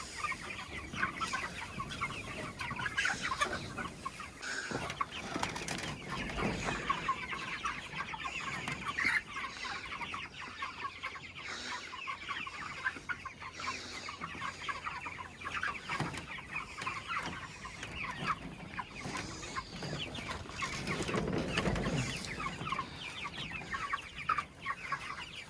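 Hundreds of chickens in a roller pen keep up a dense, continuous chorus of clucks and murmurs, close and moderately loud, with no voices.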